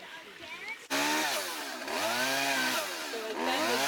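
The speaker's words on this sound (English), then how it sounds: "Do you want the chainsaw out?" A chainsaw is started on a trail during an Alaska Dall sheep hunt to cut a low-hanging tree, running loud and close with a wavering, rising and falling engine pitch for about three seconds after a quieter opening.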